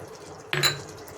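A small splash of water goes into a pan of frying mustard paste with pointed gourd, giving a sudden hissing burst partway through that fades into a steady low simmer, close and fairly loud, with no talking.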